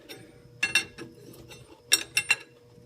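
A wrench turns a harmonic balancer bolt counterclockwise on a small block Ford engine, making two short bursts of close metallic ratcheting clicks separated by quiet pauses.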